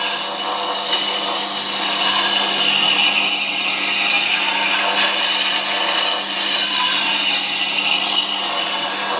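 Grinding wheel sharpening woodturning tools, with a tool edge pressed lightly and moved across the wheel, giving a continuous, loud, hissing abrasive whine that holds steady throughout.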